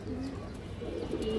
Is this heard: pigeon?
yes